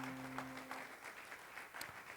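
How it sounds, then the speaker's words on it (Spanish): A church congregation claps together in a steady wash of applause during a worship service, fairly faint and even, with a brief tone fading out early on. "Den una ofrenda de palmas al Rey de Gloria."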